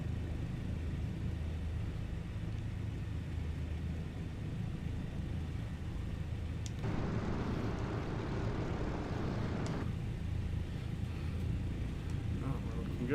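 Douglas DC-3 taxiing in a flight simulator, a low droning piston-engine rumble that holds steady, rising slightly in the middle, with a voice talking over it.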